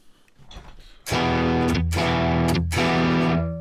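After a brief quiet rumble, a crunchy electric guitar through a Brit Blues overdrive effect strikes three loud chords in a row, thick and gritty, with no talking.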